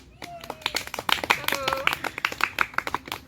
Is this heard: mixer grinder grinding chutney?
no